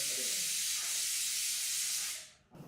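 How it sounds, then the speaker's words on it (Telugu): A pressure cooker whistle releases a steady, loud hiss of steam while rice cooks for a festival offering, then cuts off abruptly near the end. "okay, 2 whistles చాలేమో"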